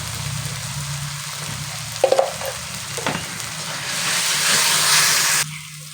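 Ground cumin and coriander hitting hot oil in a pan with a steady sizzle, a few sharp clinks of a spoon stirring, and the hiss swelling louder before stopping abruptly.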